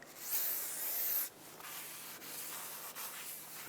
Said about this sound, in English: I'm going to clean it with brake parts cleaner just a little bit